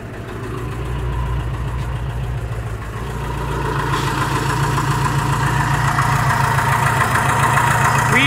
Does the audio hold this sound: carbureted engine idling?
yes